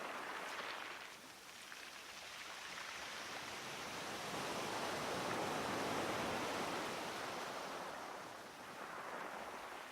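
Wind gusts on a blustery day in Blythe, a broad, steady rushing roar that swells and eases in long waves, with no voices over it.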